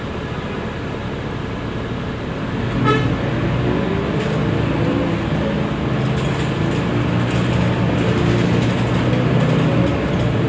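Inside a vintage TransJakarta Corridor 10 bus, a steady loud engine and road rumble carries on throughout, with a brief horn toot near the start.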